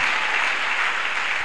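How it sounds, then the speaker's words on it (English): A church congregation applauds in a dense, even wash of clapping, steady and fairly close, with no talk heard. "Clap for our God."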